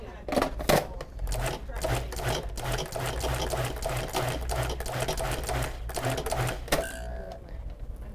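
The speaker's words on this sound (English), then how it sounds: "I will just add it into my mixture as I run the food processor to get the right consistency" Food processor running as lemon-zesty mixture is blended, a loud steady motor whir with rhythmic pulsing chops and rattles throughout, briefly easing near the end.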